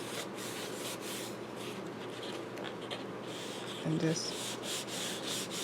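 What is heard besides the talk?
burnishing folded paper craft die art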